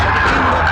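A race car skids hard toward a wall during a motorsport race, with a loud, continuous scraping roar and tire noise filling a brief moment, no talk over it.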